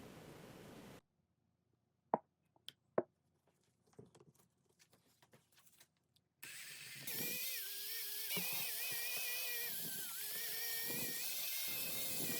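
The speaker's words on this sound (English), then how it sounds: "So using the drill attachment here to mix up the resin well." A handheld drill fitted with a mixing attachment whirs in a container of thickset resin, switching on after scattered quiet knocks and running steadily at close range for several seconds, its pitch wavering as it churns.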